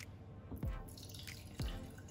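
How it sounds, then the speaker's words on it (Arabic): Cold milk is poured into a béchamel sauce for lasagne, giving two soft liquid plops and splashes that are close but quiet over a faint background. "دابا غادي نضيفوا لها كاس ديال آه، كاس ديال الحليب بارد"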